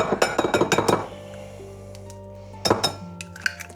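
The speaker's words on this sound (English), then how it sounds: "I'm going to be putting 2 eggs into that" Two eggs are cracked and dropped into a glass bowl, giving a burst of bright, close clinks against the glass, a short pause, then a few more taps.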